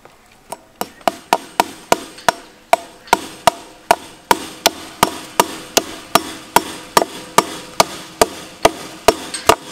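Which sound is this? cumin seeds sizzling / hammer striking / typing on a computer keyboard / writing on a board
hammer striking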